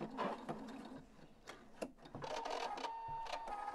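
A sewing machine stitches binding tape in a home sewing setting, a fairly quiet steady mechanical whir with rattling, ticking needle strokes and small pauses, heard up close with no talking.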